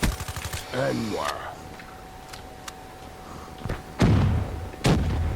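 Rapid gunfire in the shooter game Black Ops III: a quick burst of clattering shots opens, then scattered single cracks and heavy thumping impacts, with a voice speaking over part of it.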